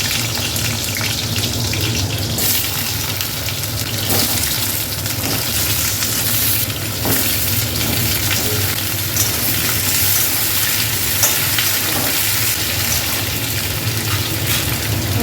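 Papaya and potato fry in a wok already used for lentil fritters, giving a steady, loud, close sizzle with faint stirring scrapes and no talk.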